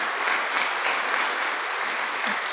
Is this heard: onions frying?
no